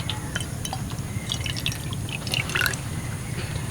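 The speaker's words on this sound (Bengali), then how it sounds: "পোড়া নোংরা তেলের মধ্যে দিয়ে দিচ্ছি কর্নফ্লাওয়ারের গলা" Cornflour slurry poured into dirty, used frying oil, giving a steady low bubbling hiss with scattered small drips and splashes throughout, close and continuous, no talking.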